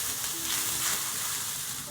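Hot water is poured into a heated wok, giving a steady hissing sizzle that fills the short moment, close and even, with no voices.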